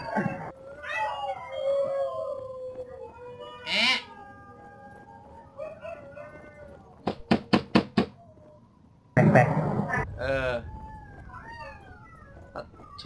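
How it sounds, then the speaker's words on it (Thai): Dog howling in the shooter game Sniper Elite 4, with long, quavering howls rising and falling across the stretch, broken by a loud burst, a quick series of sharp knocks and a renewed howl near the end. "พอดีหมามันชอบหอนตอนผิดเวลา"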